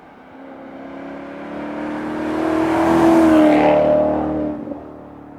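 A Maserati Quattroporte V with its cross-plane V8 revs up steadily, the engine note rising to a loud peak around the middle before easing back down, heard alone without talk.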